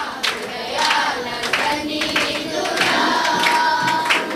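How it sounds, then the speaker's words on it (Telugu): A church congregation claps along in a steady rhythm at a Telugu worship service, the sharp, repeated claps blending with singing and room reverberation. "కొట్టండి చప్పట్లు"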